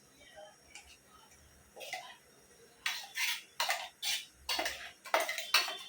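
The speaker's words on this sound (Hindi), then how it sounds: "अच्छे से चम्मच चला चला के भूनने का उसको" A spoon scraping and stirring ground masala filling for pomfret as it fries in oil in a pan, a run of sharp metallic clinks and scrapes growing louder and more frequent, with faint background noise between strokes.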